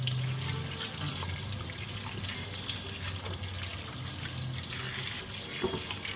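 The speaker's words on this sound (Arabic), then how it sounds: "نعيد عليه بقى غسيل تاني عشان بعد كده اسيبه يصفى بقى براحته" Small country cucumbers rinsed again under a running tap in a sink, the water pouring steadily and splashing over them throughout, close and continuous.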